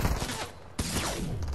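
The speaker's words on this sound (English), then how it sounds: "I'm shooting his base though" Gunfire in the Fortnite video game, a rapid burst of shots lasting about a second and a half, loud and close, broken by a short gap before the firing resumes.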